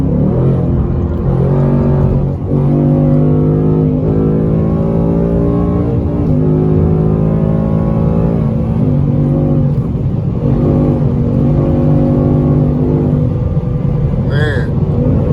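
A 2020 Ford Mustang GT with a 10-speed automatic accelerates hard, its loud engine climbing through several quick upshifts in rising and falling sweeps, heard from inside the car with a driver speaking over it.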